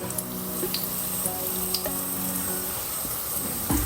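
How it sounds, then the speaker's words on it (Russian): Potato-filled pirozhki fry seam-side down in oil in a skillet over medium-low heat, giving a steady, fairly loud sizzle with small crackles and a few brief clinks, with no voices over it. "Жарятся они примерно плюс-минус 4-5 минут."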